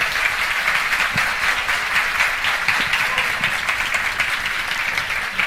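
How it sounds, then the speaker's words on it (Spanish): An audience at a hospitality event interview with a chef breaks into loud, sustained applause, a dense continuous clatter of many hands throughout. "Un aplauso."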